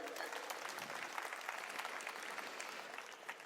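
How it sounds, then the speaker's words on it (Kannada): Audience at a live Kannada comedy show in Bangalore breaking into steady, sustained applause, a dense wash of many hands clapping heard from some distance, fairly faint, without a pause. "ಒಂದ್ಸಲ ಜೋರಾದ ಚಪ್ಪಾಳೆ ಇರಲಿ ಬಂಧುಗಳೇ"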